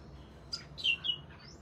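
Pet birds kept as cage birds call in a few short, bright chirps and squawks over steady low background noise, fairly faint and without talk.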